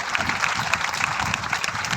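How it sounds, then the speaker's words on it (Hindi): A church congregation claps during a ring ceremony, giving a steady, moderately loud patter of many hands that runs throughout. "फोटो कोई खींच लीजिए और ताली बजा दीजिए प्रभु के लिए"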